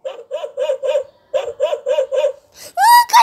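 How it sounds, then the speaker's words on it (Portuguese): A dog at the door barks in a rapid series of sharp, evenly spaced yaps with a brief pause, followed by a higher-pitched voice or yelp at the end. "Um cachorro lá na porta."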